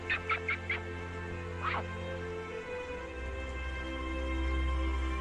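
Ducks near a riverside by a waterfall in Guangxi let out a few quick quacks, then one more call, over a steady low background rush that grows louder toward the end.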